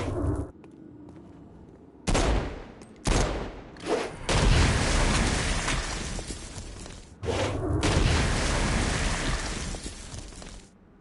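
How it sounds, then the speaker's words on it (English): Explosive blasts and gunfire in the video game Saints Row: Gat Out of Hell, several loud bursts and sustained roaring volleys separated by brief quiet gaps, with no talking. "A blast will also take down the shield of a Dark Insider, leaving it vulnerable to gunfire."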